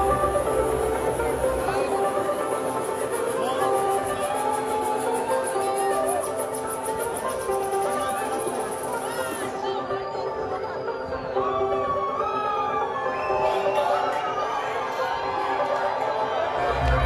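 A dense crowd at a rave at Village Underground, during a DJ set, roars and cheers continuously over loud pounding dance music, with whoops rising above the steady din throughout.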